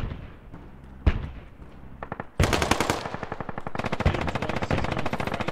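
Bursts of automatic machine gun fire in the military shooter game Squad, a sharp shot near one second, then sustained rapid rattling fire from about two and a half seconds onward, loud and close with no talking.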